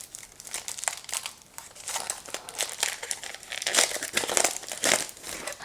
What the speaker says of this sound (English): I'm gonna remove them from the tray. And I'm gonna unwrap each of them.